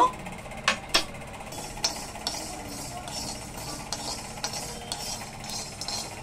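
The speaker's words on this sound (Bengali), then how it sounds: "শুকনো কড়াতে 1 চামচ সর্ষে ভেজে নেব।" Mustard seeds dry-roasting in a dry wok, with sharp clinks of a spoon against the pan early on, then a light crackling sizzle with faint scraping stirs.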